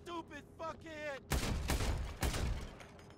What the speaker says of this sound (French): il y a un individu qui nous tire dessus